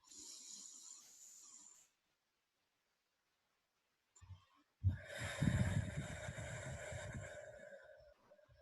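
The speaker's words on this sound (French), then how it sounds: "J'inspire à nouveau." A deep inhalation during a breathing exercise: after a faint breath and a stretch of silence, a close, loud, rough breath in rises and holds for several seconds.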